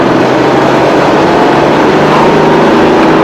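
A Bentley special's 4.9-litre Rolls-Royce engine runs loud and steady with a rough, uneven hum, misfiring around 2,500 rpm, the revs held high and slightly stuttering, with wind noise throughout.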